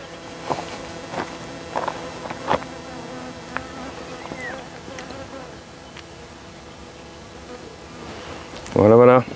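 Honey bees swarm a beehive frame with a dense, steady buzzing, broken by faint scattered ticks and knocks and a short, louder rasping burst near the end.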